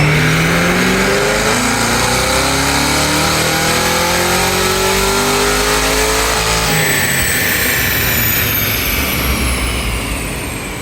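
A stock Cadillac CT5-V Blackwing engine revs hard on a dyno, its loud, rising roar climbing steadily in pitch over several seconds before easing into a sustained high drone, with no voices.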